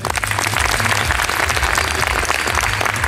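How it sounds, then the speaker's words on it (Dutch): A crowd at a wellness beauty pageant applauds loudly and continuously, dense clapping with music or crowd rumble beneath, filling the whole stretch without a break. "Graag jullie applaus voor Karin Vossen."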